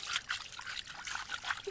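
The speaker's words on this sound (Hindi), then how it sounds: "साफ पानी आ रहा है" Clean water trickles and splashes steadily from a natural mountain spring on the road from Manali to Jispa, a close, continuous bright gurgle with no talking.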